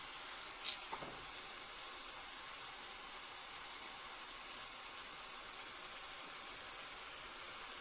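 Corn dogs fry in hot grease in a pan, a steady close crackling sizzle that runs unbroken throughout, with a faint knock near the start and no talk.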